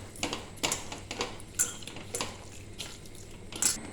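A spoon stirs chicken pieces with salt, pepper and spices in a bowl for a Kerala-style chicken roll, giving a series of quiet scraping clinks and taps in an irregular rhythm, close and without talk.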